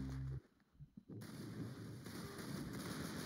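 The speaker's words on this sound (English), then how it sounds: "I'm just gonna start firing. Okay, well, I killed myself with explosive damage." Gunfire and an explosion in a Roblox video game: a short loud burst breaks off abruptly, and after a brief lull a dense, crackling blast of noise keeps going to the end.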